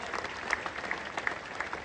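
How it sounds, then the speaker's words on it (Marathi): Audience applause at a public gathering, a steady dense patter of many hands clapping, fairly close and continuous throughout. "त्या दोघींसाठी पण आपण जोरदार टाळ्या वाजवाव्या"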